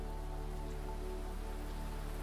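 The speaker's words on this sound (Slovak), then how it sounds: "Teraz len vnímaj dážď, ako padá, ako sa mení jeho intenzita." Steady rain falls in a continuous, dense hiss with an even low rumble, constant and unbroken throughout with no voices.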